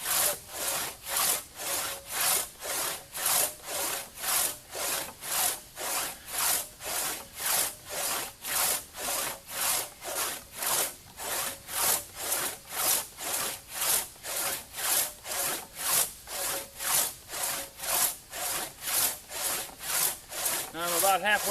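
A one-man crosscut saw cuts through a log, its even back-and-forth strokes rasping steadily and close for the whole stretch, with no talking over the sawing.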